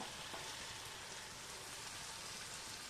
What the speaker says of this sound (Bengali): সব মশলাটা ভালোভাবে এর মধ্যে ঢেলে দিলাম। এবারে এটাকে একটু কষাবো।